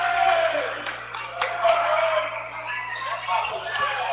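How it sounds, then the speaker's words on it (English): Basketball crowd noise in a high school gym during a free throw, a broad, steady wash of voices and cheering that swells and dips throughout. "The crowd making some noise"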